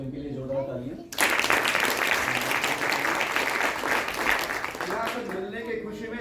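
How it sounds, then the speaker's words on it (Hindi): An audience at a Hindi stage play bursts into loud, sustained applause for the actors, a dense wash of clapping that follows a brief spoken introduction and fades back toward talk. "इनके लिए जोरदार तालियां"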